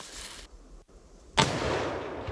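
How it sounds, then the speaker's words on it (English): A rifle shot rings out during a bull hunt, one sharp loud crack followed by a long rolling echo. A faint rushing sound comes just before it. "Shoot him again."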